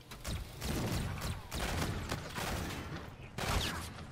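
EBR sniper rifle firing in Call of Duty: Infinite Warfare, a series of sharp, close shots in quick succession with a few louder bursts standing out.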